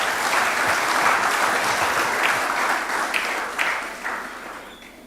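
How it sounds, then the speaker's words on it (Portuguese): An audience at a ministerial meeting breaks into steady, dense applause that holds at full strength for several seconds before thinning slightly toward the end, loud and continuous with no talk over it. "Batam palmas, por favor."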